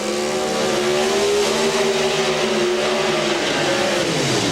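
Pro Stock drag racing trucks roar loudly at an NHRA drag race in Richmond, engine pitch climbing steadily as they launch and accelerate down the strip, with a dense, raspy exhaust note and no talk.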